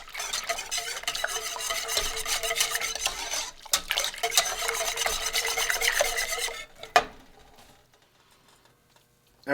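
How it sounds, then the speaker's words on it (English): Coconut custard is whisked in a pot over heat, giving a steady, close scraping and stirring rasp for about six seconds, then a sharp utensil knock before the sound stops and near-silence follows. "I'm just going to mix this until this comes to a boil."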